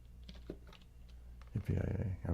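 Typing on a computer keyboard during a live stream, a few soft scattered clicks followed by a quicker, louder burst of keystrokes, close and dry.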